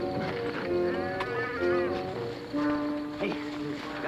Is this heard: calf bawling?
yes